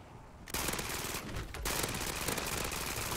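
Gunfire in MW3 Zombies: a dense, continuous, rapid-fire burst of shots that runs almost the whole time, with a short dip in the middle.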